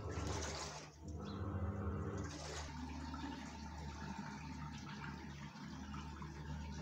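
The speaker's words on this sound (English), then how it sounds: "after rinsing couple of minutes, water is drained out." A Haier washing machine drains its water after the rinse cycle, a continuous rushing, gurgling flow that holds steady throughout with a brief surge near the start.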